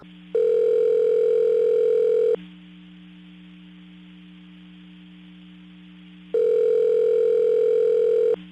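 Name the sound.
phone dial tone calling a store in video game Saints Row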